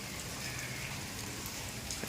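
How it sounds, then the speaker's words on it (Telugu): Rain falls steadily with a soft, even patter of drops close by, no voices heard. "వర్షం అయితే పడుతుంది"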